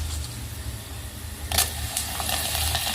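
Oil heating in a pan over a freshly lit gas stove in a home kitchen, a faint hiss that picks up into soft sizzling crackles partway through.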